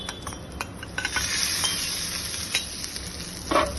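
Hot oil tempering with mustard seeds, curry leaves and asafoetida is poured onto coconut and onion chutney, giving a soft continuous sizzle with light clinks of the pan and a brief louder spatter near the end.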